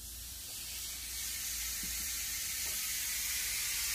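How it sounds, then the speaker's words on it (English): A soft, continuous hiss of burgers sizzling on a grill in an RV, growing slightly louder and steadier as it goes on. "I don't know if you guys can hear that, but hear that little sizzle"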